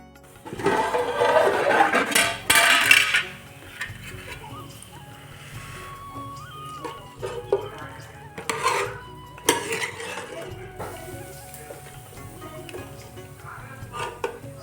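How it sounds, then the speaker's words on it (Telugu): Chicken curry being stirred in a cooking pot, with metal utensil scrapes and clatter loudest early on, then intermittent lighter stirring and clinks. "తర్వాత చికెన్ కర్రీ అయితే నేను వండుతున్నాను"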